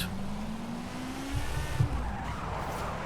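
A 2002 Mazda RX-7 Spirit R Type-A drifts in Forza Horizon 5 with a sustained tire squeal over a droning engine, moderately loud, the pitch sliding as the car slides.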